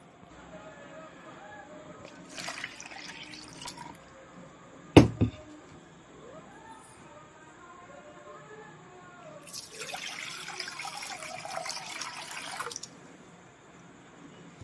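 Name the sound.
water being replaced in a microgreens growing tray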